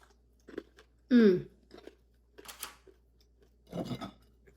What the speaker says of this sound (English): I have got to have a bite.